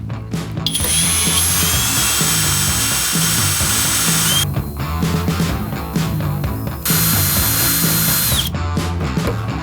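A Skil XP DD1E3080 cordless drill holding a 1.5 mm bit runs at high speed in two long loud whining bursts with a brief pause between, close and without talk.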